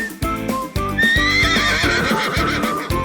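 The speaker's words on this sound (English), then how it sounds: "That's right. It's a horse." A horse neighs with a long, wavering whinny, heard loud and close over upbeat background music with a steady beat.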